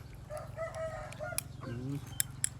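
A rooster crows once at moderate distance in an outdoor rural setting during cooking. The rising then falling call is set against a steady low hum and scattered clicks.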